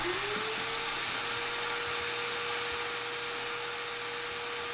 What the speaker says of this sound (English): now I'm just gonna vacuum this area and then move to the front